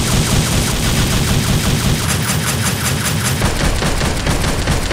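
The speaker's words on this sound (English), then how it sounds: "they changed the sound of Dante's guns" Rapid, loud gunfire from Dante's twin pistols Ebony and Ivory in Devil May Cry 5, a dense, continuous volley of sharp shots with no pause, heard up close and alone.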